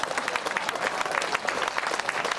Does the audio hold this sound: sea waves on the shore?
no